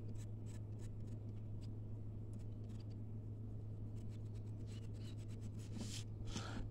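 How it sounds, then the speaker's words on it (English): Someone lightly scrapes the green bark off a dry plant stalk in soft, repeated rasping strokes, close and quiet, over a steady low hum with no talk. "all I'm doing is just lightly scraping off the green."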